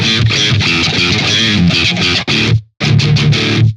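Tight, percussive chugging electric guitar runs through an Attacker drive pedal set to no drive and full attack, loud palm-muted riffing with a brief stop before resuming.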